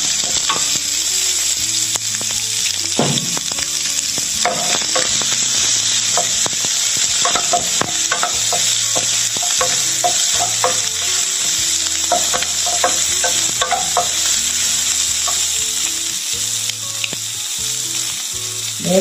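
Onions and mustard seeds frying in a pan for a ridge gourd and peanut dish, giving a loud, steady sizzle with frequent popping and stirring clatter close up, with no voices.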